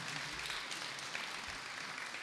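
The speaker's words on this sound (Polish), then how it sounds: "Brawa." Faint, even applause from an audience at a regional Christmas carol concert, a soft continuous patter of many hands heard from a distance.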